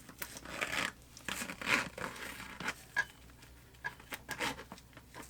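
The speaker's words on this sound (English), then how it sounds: "I'm just going to start working my way around with the zipper here." A zipper being worked open around an Urban Worm Bag V2 worm composting bag, giving a series of scratchy, tearing rasps in short bursts with pauses, close and fairly quiet, no talking.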